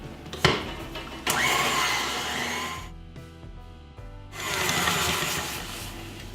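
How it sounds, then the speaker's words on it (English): An electric mixer whirs loudly as it creams oil, sugar and other ingredients for an egg-free, dairy-free vegan chocolate cake, running in two bursts separated by a brief quieter dip. "We're just creaming the ingredients together at this point."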